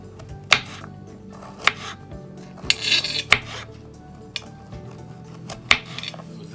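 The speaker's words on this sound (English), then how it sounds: "And then you slice it very thin round slices." A knife slices radishes into thin rounds on a cutting board, giving about eight sharp, irregular taps and short rasps with faint board and dish clatter between them, close by and without talk.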